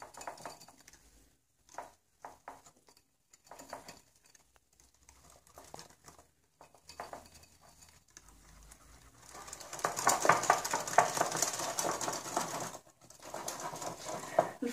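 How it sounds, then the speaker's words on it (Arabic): Starch mixture stirred in a pot for a strawberry charlotte, with soft intermittent scraping and clinking of a utensil against the pot, growing louder and denser toward the end. "غادي نعاود نحرك هاد النشا غير بشويه"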